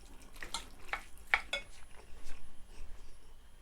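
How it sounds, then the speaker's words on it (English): Cheese is stirred into cooked minced beef in a pan, with soft scraping and clinks of a utensil against the pan and a light sizzle underneath, close and fairly quiet. "I just put in my cheese in my beef. I just mix it around and make everything combine together."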